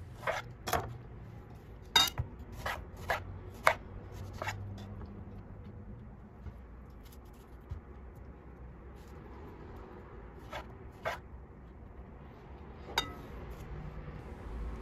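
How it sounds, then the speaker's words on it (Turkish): A knife dices tomatoes into small cubes on a cutting board, giving sharp, irregular clicks and taps, some in quick clusters and others spaced apart, over a quiet kitchen background with no talking. "kalan domateslerimi küçük küpler halinde doğramaya devam ediyorum"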